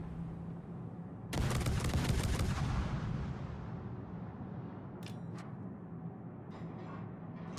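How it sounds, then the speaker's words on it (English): Naval gunfire in World of Warships: a heavy, loud booming salvo that rumbles out and decays over a couple of seconds, followed by faint scattered distant noises. "they're shooting at me"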